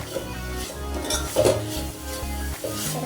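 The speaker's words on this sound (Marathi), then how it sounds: "तर छान असे दोन ते तीन मिनटं परतवून घ्यायचं" Dried coconut masala being sautéed in a pan for Kolhapuri misal, with steady scraping and stirring clinks of a utensil against the pan over a soft sizzle, close and continuous.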